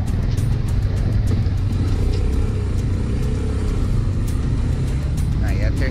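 A motorcycle passing along a street, its engine a steady, close rumble that fills the whole stretch, with voices murmuring faintly underneath.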